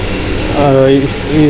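Electric fans in a poultry shed whir with a steady broadband hum while a person talks close by over the noise.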